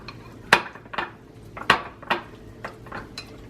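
A utensil knocks and scrapes against a bowl while salt is mixed into freshly made homemade butter from raw milk, giving a series of close, irregular clinks and taps with short gaps between them.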